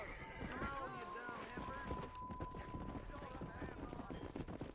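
Horse hooves clatter in rapid clip-clop rhythm in the Red Dead Redemption video game while herding cattle down a road, with game voices and other ambient sounds layered over the galloping.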